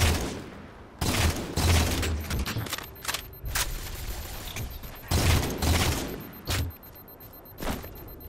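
Gunfire in the shooter Halo 4, repeated loud bursts of shots and impacts in uneven clusters with short pauses between, close and punchy, no talk.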